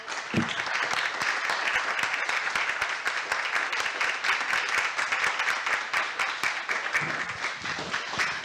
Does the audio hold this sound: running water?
no